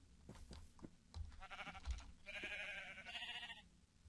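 Minecraft sheep give several wavering, nasal bleats in a row, the later ones louder and longer, over faint background game noise.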